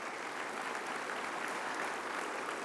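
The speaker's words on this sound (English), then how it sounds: "Give them all a round of applause." A conference audience at an engineering education plenary gives a steady round of applause for a team standing up, a moderately distant wash of clapping that holds evenly throughout.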